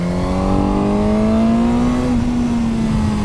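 A Royal Enfield Himalayan motorcycle engine accelerating hard in second gear on a race track, its loud, close droning note rising steadily in pitch with no talking over it.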